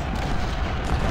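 Civil War cannon fire in Ultimate General: Civil War, a dense, rumbling roar of artillery booming continuously at a loud, steady level.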